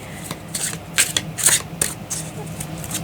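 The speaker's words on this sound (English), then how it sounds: "I heard one more shuffle and then cut the deck." Tarot cards are shuffled in several quick riffling bursts, close and fairly soft, with brief pauses between them.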